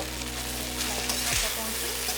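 Sliced carrots sizzle and crackle steadily in a hot pan for a buff stir-fry noodle dish, with stirring scrapes throughout.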